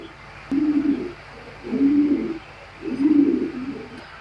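Female racing pigeon cooing in three evenly spaced low rolling phrases, close and moderately loud, over faint background hiss.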